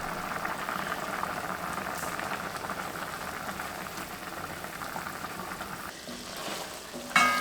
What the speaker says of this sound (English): This cooks uncovered to facilitate the reduction of that sauce.